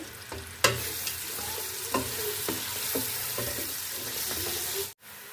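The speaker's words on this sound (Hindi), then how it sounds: "अब इसको हम फ्राई कर लेंगे।" Steady sizzling of onions frying in hot oil, with occasional clinks and scrapes of stirring, fairly quiet and close.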